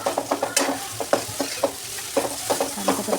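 Onion and spice masala stir-fried in a pan for a soybean chunk masala fry, a spoon scraping and tossing in quick rhythmic strokes over a steady sizzle, close and clear with no voices.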